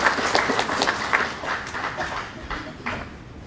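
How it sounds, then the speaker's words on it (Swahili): A crowd at a public gathering with a regional commissioner claps in scattered, uneven bursts, moderately loud, with a voice talking underneath. "Hebu tupigie makofi Mheshimiwa Rais asikie."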